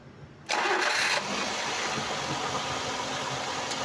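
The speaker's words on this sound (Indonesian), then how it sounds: "Dan sekarang kita tinggal starter, kita dengerin suara langsamnya" A 2014 Daihatsu Gran Max 1.3 blind van engine cranks and catches with a loud burst, then settles into a steady, even idle close by.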